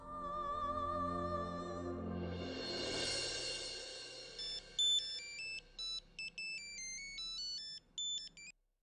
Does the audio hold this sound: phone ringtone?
yes